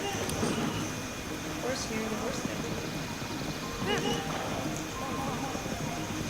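Horse hooves clip-clop steadily at a walking pace amid a busy soundscape in Zelda: Breath of the Wild, with a faint low hum underneath.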